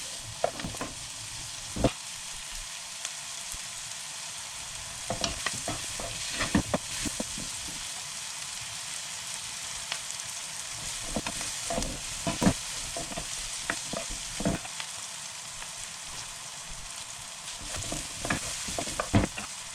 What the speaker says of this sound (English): we're going to leave that on a low heat, moving it every minute or so, just for 2 or 3 minutes to soften those onions